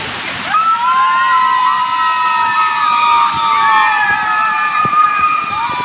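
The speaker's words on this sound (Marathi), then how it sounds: "समोर केवढा मोठा धबधबा आहे" A big waterfall pours with a continuous broad rushing roar, while people nearby shout, call and cheer over the steady wash of water.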